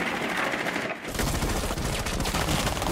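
Rapid bursts of video game gunfire rattle continuously at close range, loud and dense, with a brief dip before the shooting intensifies again.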